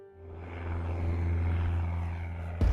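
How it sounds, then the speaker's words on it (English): A small Cessna plane drones steadily in flight, its propeller engine a loud, continuous low hum heard from inside the cabin, ending with a sudden louder burst of noise. "I've taken flight in this Cessna"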